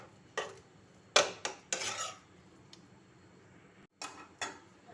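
Fish being stirred and mixed with garam masala powder produces a handful of short, close scraping and clinking strokes of a utensil against a dish, separated by quiet pauses.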